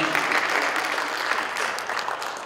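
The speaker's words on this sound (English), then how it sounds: "Can we give her and Julianne a round of applause for all their help tonight?" Attendees at a high school boundary study open house give a round of applause, a dense, steady clapping from a roomful of people that stays at an even level throughout.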